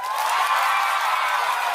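Audience applause with shouting at a live comedy show in Oriental Mindoro, a steady wash of clapping and crowd noise, loud and even across the whole moment, with no clear talk.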